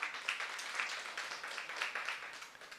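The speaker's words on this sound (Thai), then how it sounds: "ทีมชุมพรมาปรบมือให้ทีมคุณนัทพงศ์ด้วยครับ" A seminar audience gives a team a short round of applause, a thin, fairly quiet patter of a modest number of hands clapping unevenly for a few seconds.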